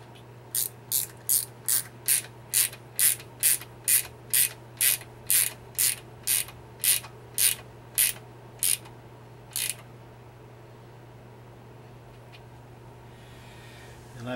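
A ratcheting wrench tightens a reverse servo pin measuring tool on a GM 4L80E transmission, giving a quick run of about twenty crisp clicks that slows and stops, close, over a low steady hum.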